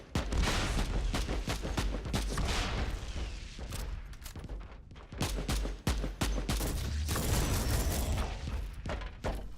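Charged shotgun fire in Warhammer 40K: Inquisitor - Martyr comes as a dense run of loud, booming blasts. Repeated explosive impacts and gunfire crowd together with hardly a pause, and no one talks over them.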